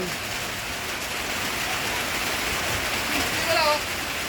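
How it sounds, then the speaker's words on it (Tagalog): Steady rain falls on a rice farm during the first day of the palay harvest, a constant broadband hiss throughout with a brief bird-like chirp near the end and a voice faintly in the background. "umulan."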